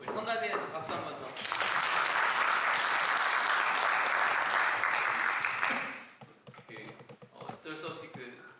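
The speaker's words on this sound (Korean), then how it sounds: "우리 성가대한테 박수 한 번 더." A church congregation applauds the choir in a loud, dense burst lasting several seconds that ends abruptly, with talking before and after it.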